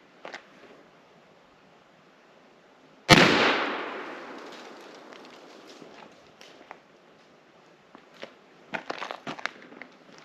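A single loud, sharp rifle report from a Marlin 1894 lever-action in .44 Magnum firing 300-grain bullets over a chronograph, with a long ringing decay after a quiet lead-in, followed later by light clicks and handling noises.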